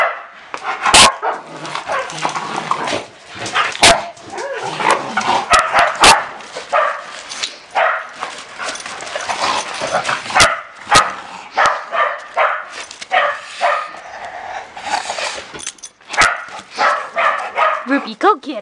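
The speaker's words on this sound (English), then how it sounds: "Barking." A neighbor's dog barks repeatedly in short bursts, mixed with yips and whimpers, while people talk over the commotion for the whole stretch.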